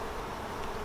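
Honey bees drone and buzz in a dense, continuous hum around an open, crowded hive during a swarm check, close and steady with no pauses.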